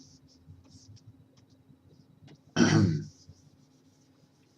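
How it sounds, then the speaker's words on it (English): A single harsh throat clearing by someone with a sore throat, loud and close, about half a second long, breaking a quiet room with faint background murmur. "Sorry for clearing my throat all the time,"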